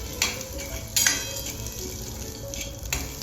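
Peanuts roast in a spoonful of hot oil in a kadai, a soft steady sizzle punctuated by a few sharp scraping stir strokes, quiet and close.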